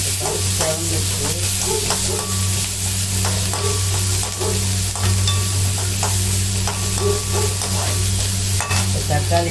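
Mustard seeds crackle and sputter in hot oil in a home kitchen pan, a steady close sizzle with scattered pops over a constant low hum, no voices.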